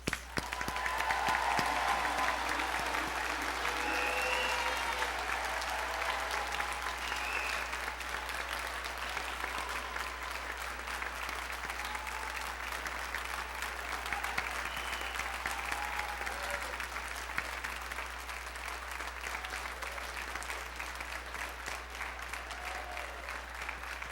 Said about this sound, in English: Candidates a big round of applause